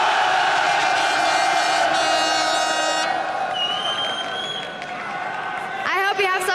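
A live crowd at a 2013 League of Legends esports match, Dragon Borns against Gambit Gaming, gives a steady roar of cheering and applause beneath sustained tonal music, with brighter bursts near the end.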